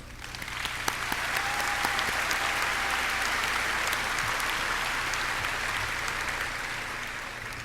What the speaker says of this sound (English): I believe a round of applause is deserved